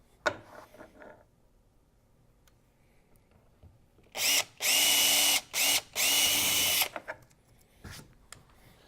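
A power drill drives a bolt into a kayak mount on a Hobie Pro Angler 12, whirring loudly in four close bursts with short pauses between them, framed by clicks and handling sounds.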